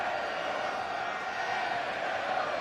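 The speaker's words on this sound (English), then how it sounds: "And the crowd responding to." Stadium crowd at a rugby match cheering after a kick, a dense, sustained roar that holds steady throughout, with no clear individual voices standing out.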